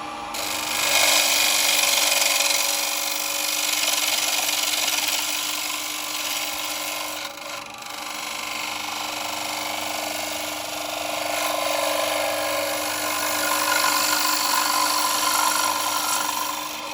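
A 5/8-inch spindle gouge hollows the inside of a wooden bowl on a lathe, making a steady, close, continuous rasping cut that runs throughout with only brief dips in intensity.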